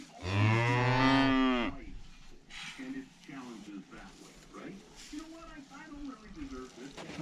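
A cow lows loudly once, close by, while cattle are moved in a snowstorm; afterward people talk quietly over faint outdoor background.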